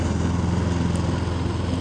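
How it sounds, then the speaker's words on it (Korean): A lawn mower cutting grass drones at a steady, close, loud pitch without a break, with no talking. "평생 한국 아파트에서만 살았더라면 잔디깎이 기계를 만져볼 일도 없었을 텐데 기회가 주어졌으니 어디 나도 한번 해볼까?"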